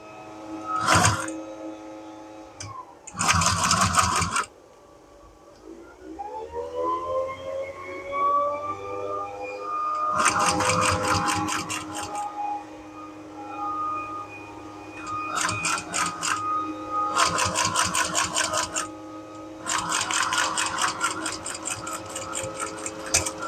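A sewing machine stitches a MOLLE pouch in several loud rapid bursts of needle chatter, separated by pauses and a low mechanical hum.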